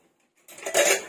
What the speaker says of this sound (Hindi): अब हम कुकर खोलेंगे।